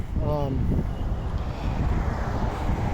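Strong wind buffets the microphone with a continuous low rumble, while a voice briefly speaks early on.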